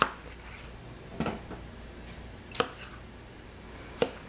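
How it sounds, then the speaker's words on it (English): Knife cutting tomatoes into quarters, heard as three sharp, isolated chops spaced about 1.4 seconds apart over a quiet background, fairly close and moderately loud. "then I'm gonna start cutting up my tomatoes and putting them into this clean pan"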